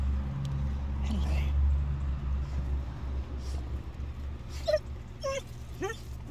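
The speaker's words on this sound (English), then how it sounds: "all park ups in Georgia come with their very own doggy friend" A dog whimpers and whines in a few short rising cries near the end, over a steady low engine-like hum at a winter car-camping park-up in Georgia.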